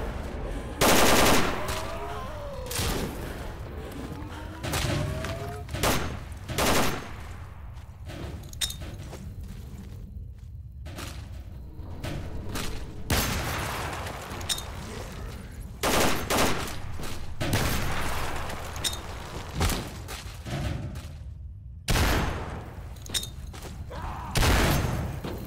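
Gunfire in STALKER Call of Pripyat with the Gunslinger mod: scattered loud shots and bursts of automatic fire with booms, some near and some distant, spread irregularly across a long firefight.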